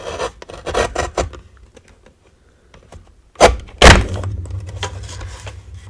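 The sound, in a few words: Tiny Tonic paper trimmer trimming stamped paper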